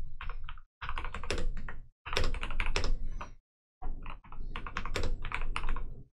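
Fast typing on a computer keyboard, steady bursts of clattering keystrokes separated by brief pauses, close and clear with no talking.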